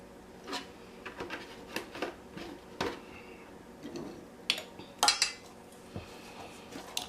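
A utensil clinks and scrapes against a bowl while egg and whole milk are mixed for cornbread batter, giving an irregular run of light taps and knocks, close and fairly quiet, with no talking.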